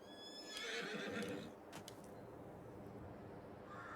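Horses whinny inside a horse barn in a farming video game, with a loud drawn-out neigh in the first second and a half, then a quieter stretch with a few small clicks and a hint of hooves.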